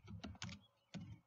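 Keystrokes on a computer keyboard while entering a search term into the Windows Registry Editor, a few quick clustered taps followed by a pause and a final short burst, close and fairly quiet with no talking.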